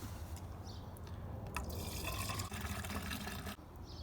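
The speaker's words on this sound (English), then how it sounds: "we can go ahead and close off and tighten the petcock on the bottom of the radiator and add our coolant" Coolant pouring into the radiator reservoir of a 2014-2018 Chevrolet Silverado or GMC Sierra, a steady liquid trickle with dripping that runs for about four seconds over a low background hum.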